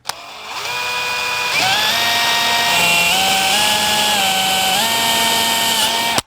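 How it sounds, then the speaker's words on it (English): A power drill bores with an extra long bit while fitting an audio package to a Harley motorcycle, a close, loud whining motor running steadily for about six seconds, its pitch stepping up and down as load shifts, no voices. "We're going to go in here with this extra long drill bit"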